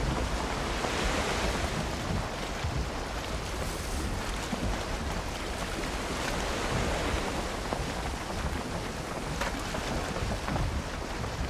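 Wind and waves roar steadily in the survival game Valheim, a dense, constant rush of surf and gusting air heard alone, with no talking.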